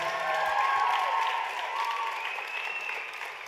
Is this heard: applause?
yes